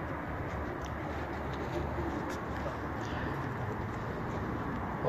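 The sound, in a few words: pigeons cooing on a rooftop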